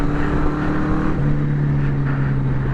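A Honda CB750 motorcycle with swapped carburetors decelerates on the road, a steady engine drone with faint wind, heard close while riding, sliding down slightly in pitch.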